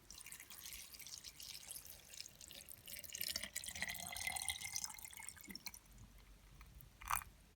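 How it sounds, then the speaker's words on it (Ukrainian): Drinking water pours and trickles into a jar, a gentle running stream with a brief louder splash near the end. "Заливаю питною водою."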